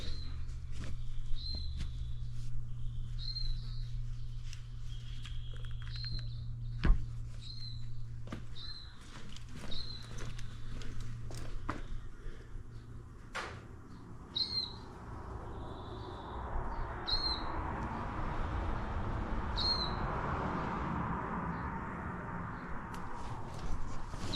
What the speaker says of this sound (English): That bird's still up there. I can hear him chirping away